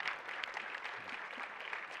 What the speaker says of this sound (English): So can we give him 10 seconds of loud cheer?